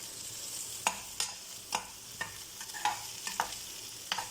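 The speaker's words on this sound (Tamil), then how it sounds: "லேடிஸ் ஃபிங்கர் வதங்கட்டும்." Okra (lady's finger) sautés quietly in a pan, giving a soft, continuous sizzle broken by about a dozen sharp clicks and scrapes as the pieces are stirred, with no talking.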